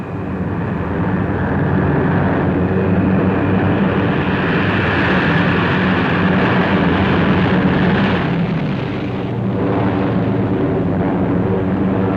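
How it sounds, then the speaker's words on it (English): Waves of WWII bomber aircraft pass overhead, a loud, steady, unbroken engine roar that swells and holds for several seconds with a dense rumbling drone and no voices. "One observer called the seemingly endless waves of planes the most imposing aerial parade I have seen since the beginning of this long war."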